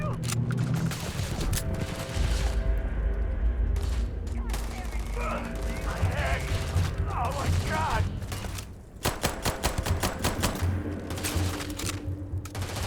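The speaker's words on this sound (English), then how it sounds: "I'm just going to have to shoot this guy" Rapid gunfire bursts from a firearm in the game Starfield, crackling over a dense layer of game music and mechanical noise, with someone talking intermittently over the shooting.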